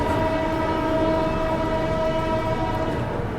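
A passing train sounds a sustained horn, a steady tonal blare held throughout over rumbling rail noise.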